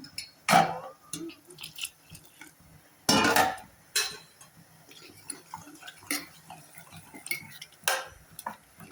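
Ground Kashmiri chilli paste is mixed with other ingredients in a bowl, making intermittent close clinks and knocks of a spoon against the dish, with quieter scraping between the louder taps.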